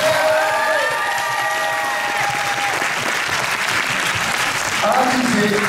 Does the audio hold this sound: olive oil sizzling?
no